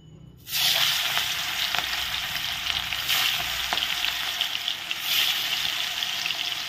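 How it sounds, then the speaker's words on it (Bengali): A large boal fish head coated in flour goes into hot oil and starts frying, bursting into a loud, steady sizzle after a short quiet moment, with crackling pulses continuing throughout. "এখানে তেল গরম হয়েছে, তেলে এখন দিয়ে দিব"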